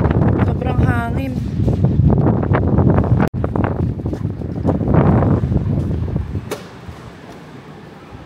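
Strong wind buffets a phone microphone outdoors in Canada, a loud continuous rumbling roar with gusty bursts and a sharp knock partway through, steady throughout with no clear talk over it.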